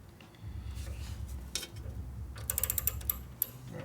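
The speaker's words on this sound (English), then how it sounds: "we'll go ahead and loosen up the bolt over here, which will move the transmission forward" A wrench working a bolt on a Harley WL 45ci flathead transmission during a bobber rebuild, giving close metallic ratcheting and clicking over a low rumble, with a quick flurry of sharp clinks near the end.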